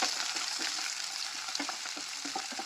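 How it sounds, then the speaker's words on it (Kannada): Green chillies, curry leaves and onion sizzle in hot oil in a pan while being stirred, a soft steady frying hiss with light scraping taps throughout. "ಹೆಚ್ಚಿಟ್ಕೊಂಡಿರೋಂಥ ಹಸಿಮೆಣಸಿನ್ಕಾಯಿ, ಒಂದು 5 ಕಡ್ಡಿ ಕರಿಬೇವು, ಒಂದು ಗಡ್ಡೆ ಈರುಳ್ಳಿ, ಇದೆಲ್ಲ ಚೆನ್ನಾಗಿ ಮಿಕ್ಸ್ ಮಾಡ್ಕೊಳ್ಳೋಣ"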